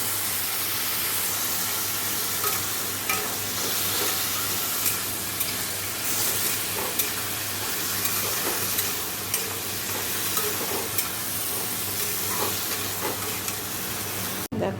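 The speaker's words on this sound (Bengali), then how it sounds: "জিরে ধনে কাশ্মীরি লঙ্কার গুঁড়ো দিয়েছি ভালো করে কষে নেবো" Cumin, coriander and Kashmiri chili powder are stir-fried in a pan with a splash of water, with a constant sizzle and the scrape of stirring running throughout at close range.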